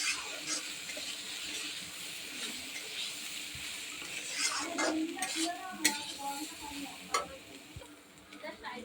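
Spices being stirred and sautéed in a pan for a khichuri lunch, a soft steady sizzle with scraping stirs and a few light clinks of utensil against the pan, moderately faint.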